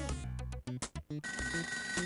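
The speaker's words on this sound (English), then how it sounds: "That's the phone." Telephone rings in the video game Alive on 25, a trilling electronic ring in short repeated bursts, loud and mixed with game music.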